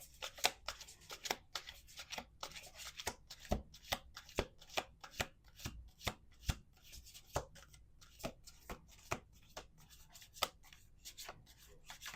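Tarot cards are shuffled by hand in a quiet room, soft riffling rubs punctuated by frequent sharp taps and slaps at an uneven rhythm, close and fairly faint throughout.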